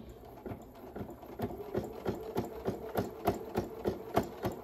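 A sewing machine stitches through several layers of a ribbon lovey, giving a steady, rhythmic mechanical thumping at a moderate pace, close by and fairly quiet, with no talking.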